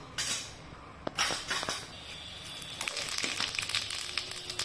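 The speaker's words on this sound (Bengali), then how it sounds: "তখন আমি জিরা ফোড়ন দিব" Cumin seeds tempering in hot oil with dried chili and bay leaf for bhog khichuri, crackling and popping in sharp bursts with clinks of a utensil against the pan, close and busy.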